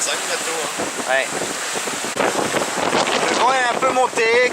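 Wind of about 20 knots roars steadily across a sailing boat during an ocean race leg, with buffeting gusts and water rushing, while people talk over it.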